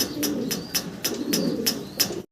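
A pair of Mundian pigeons coo in a steady series of soft, low murmuring calls, close by and alone, with brief brighter overtones marking each repeated phrase.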